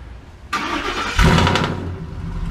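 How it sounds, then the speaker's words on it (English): A noisy truck engine cranks and catches, then settles into a loud, rough idle with no voices over it. "So let's get inside and fire this thing up."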